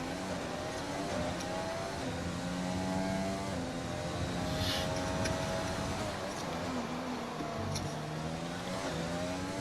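A Formula 1 car in an F1 video game on a timed lap around Monaco, its high-pitched engine whine rising and falling through gear changes, continuous and moderately loud with faint commentary voices beneath.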